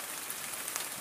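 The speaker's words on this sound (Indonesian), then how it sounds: "Hujannya udah mendingan" Steady rain pattering on a surface during a barramundi fishing outing, a dense even hiss with occasional sharper drops, close and fairly quiet, no voices.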